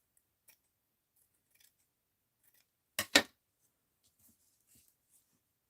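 Scissors trim paper for a card with two quick, crisp snips close by, surrounded by near silence and faint rustles.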